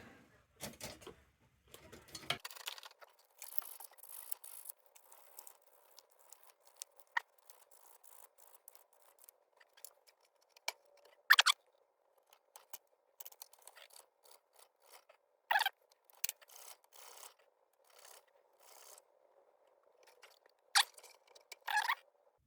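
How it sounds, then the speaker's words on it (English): Sandpaper rubs down part of an old C.T. Ham Gem side lamp, giving scattered short scratchy strokes and sharp rasps, some louder than others, with quiet gaps between them and no talking. "Now what I want to do is kind of sand this down a little bit."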